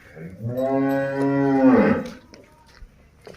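A young buffalo heifer or cow moos once at a farm in Bhagta Bhai Ka village, a long, loud, close call lasting about a second and a half before it fades into quiet background.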